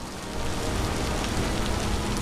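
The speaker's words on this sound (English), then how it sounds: "it's raining all the blasted time" Steady rain pours down in the Vintage Story game world, a dense, even hiss that fades in over the first moment and then holds at a constant level with no voices.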